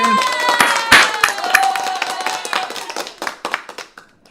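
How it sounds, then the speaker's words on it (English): Scattered clapping from a small group of people mixed with other sharp percussive hits and sustained tones, loud and fairly busy at first before thinning out toward the end. "Then the people started clapping."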